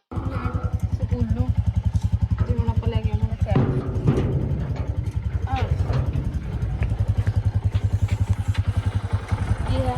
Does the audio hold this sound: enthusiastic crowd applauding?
no